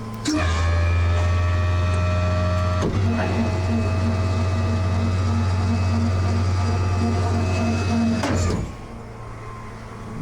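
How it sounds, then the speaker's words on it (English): An electric winch reels in slack cable after a wreck, a steady motor hum and whine running for about eight seconds between sharp clunks at start and stop, loud and close. "get rid of my slack here in the winch cable."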